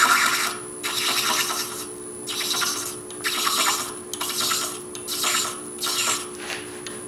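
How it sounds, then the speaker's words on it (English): A thread chaser cuts threads into a cast resin needle case turning on a wood lathe, giving about six rhythmic raspy scraping strokes over a steady, quiet motor hum. "I'm going to just keep turning the corner where my thread chaser is pretty much perpendicular."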